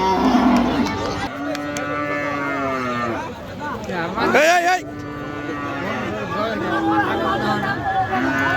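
Cattle at a village livestock market, several long, loud moos from a nearby cow in succession, with crowd chatter and a speaking voice underneath.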